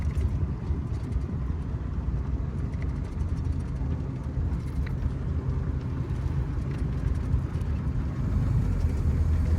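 A 1931 Packard 840 Dual Cowl Sport Phaeton cruising in high gear, its engine a low, steady, quiet rumble with road and wind noise, continuous and even throughout, no voices.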